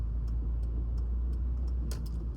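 Bentley car on the road, heard from inside another car as a steady low engine and road rumble with a few faint clicks and a brief brighter swish near the end.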